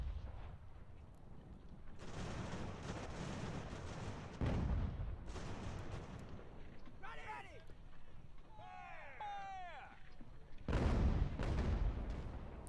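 Artillery canister fire booms out in Ultimate General: American Revolution, a few heavy blasts spaced apart over a steady battle rumble, with brief whistling or shrieking sounds in between.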